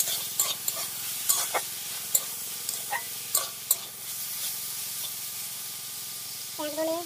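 Bitter gourd and small fish fry together in a pan, crackling and spitting in short bursts over a steady sizzle, with a voice briefly heard near the end.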